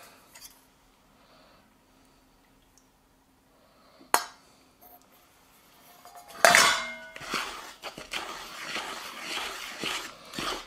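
Apple cobbler crumble is mixed with eggs in a bowl: quiet stretches broken by a sharp clink, then a burst of clattering utensil-on-bowl scraping and knocking that continues irregularly toward the end, with no speech.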